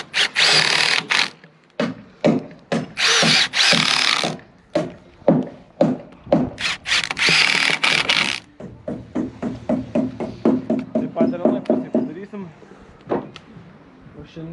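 A power drill drives screws into wooden roof truss corners, whirring in repeated bursts, loud and close, with talk between the runs.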